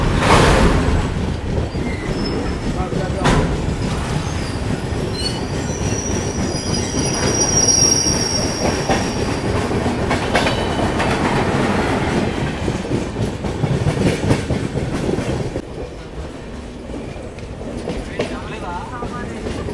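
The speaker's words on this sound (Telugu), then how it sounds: "మెయిన్ లైన్ డిపార్చర్ చూడండి, యాక్సలరేషన్ ఫుల్ తీసుకుంటుంది" Golconda Express departing on the main line and gathering speed, a loud continuous rumble of rolling wagons with squealing wheels and clickety-clack, sustained throughout before easing slightly near the end.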